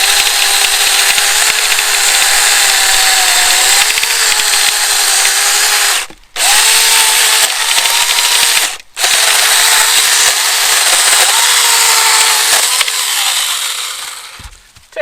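A Tomyvic 6-inch battery-powered mini chainsaw cuts through a tree limb, a loud, close buzzing whine that stops abruptly twice before winding down at the end of the cut.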